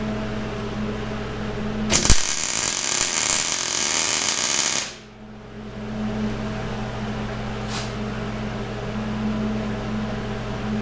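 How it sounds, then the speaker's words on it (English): A tack weld on a steering arm for a Dana 60 knuckle on a Super Duty front axle gives a loud, steady crackling hiss for about three seconds over a constant electrical hum, then stops abruptly. "I'm going to tack weld here for the same reason"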